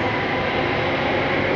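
Steady rumbling interior noise of an Alstom Metropolis C830 metro train on Singapore's Circle Line, a dense continuous roar of wheels and motors filling the carriage at constant loudness with no voices.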